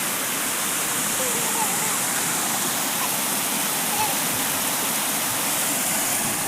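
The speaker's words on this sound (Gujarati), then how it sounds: "મિત્રો આ જગ્યાએથી પાણી પડે છે હાલ." Water pouring down a waterfall at the Paniyari ashram, a loud steady roaring rush throughout.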